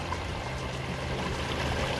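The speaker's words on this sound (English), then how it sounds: "and that water's coming out" Water leaking from the side of a backyard stream and waterfall feature, a steady close trickling and pouring wash with no talk.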